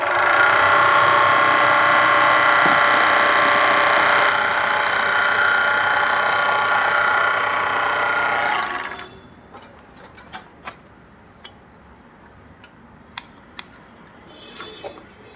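An overlock machine stitches fabric with a loud, fast continuous mechanical whir for about nine seconds, then stops, leaving scattered faint clicks and handling noises.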